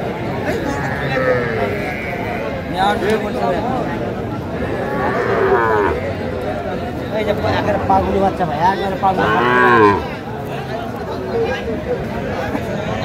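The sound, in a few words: Sahiwal bull calf mooing at cattle market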